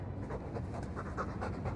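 A Mabari war dog in Dragon Age 2 pants loudly and rhythmically, quick close breaths repeating without pause and with no talk over them.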